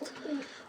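A single brief, soft coo from an old pure Mira-line pigeon, close and alone with no talk.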